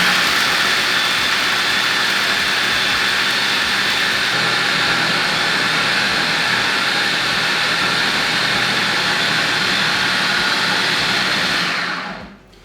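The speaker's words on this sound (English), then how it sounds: "We want to just keep blending it until it becomes quite liquid" A blender runs loud and continuous, grinding hazelnut praline into a paste with a steady roaring whir that holds for about twelve seconds before cutting off abruptly.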